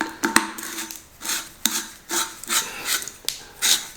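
Metal parts of a Webley Raider air rifle being screwed back into the greased air tube give a series of short scraping, rasping turns in an irregular rhythm, close and fairly soft, with no talking.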